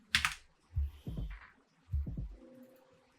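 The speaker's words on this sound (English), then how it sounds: "Just typing this out." Computer keyboard keys are struck in a few separate heavy clacks and short clusters, close up, with quiet gaps between presses.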